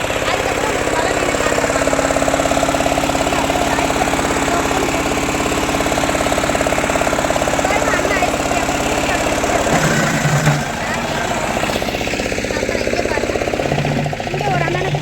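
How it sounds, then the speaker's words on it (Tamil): An ice machine crushes ice at the Cuddalore fishing harbour, making a loud, continuous, rattling mechanical roar with a steady pulse. The noise briefly shifts and dips near the end. "அது ஐஸ் மிஷின் ஐஸ் உடைக்கிறது"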